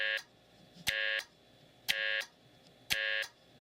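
Telephone busy tone from a step-by-step switching system, dial tone interrupted at 60 per minute: four loud buzzy bursts, each roughly a third of a second, at an even once-per-second rhythm with near silence between them.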